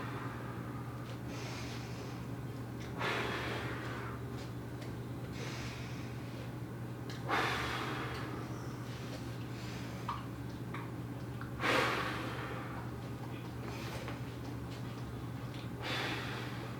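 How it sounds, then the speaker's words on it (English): A child in a yoga exercise blows out breath to push feathers across a mat. Three or four soft, airy exhalations rise at intervals over a steady low hum, and no one talks. "use our breath to push those feathers to the other side"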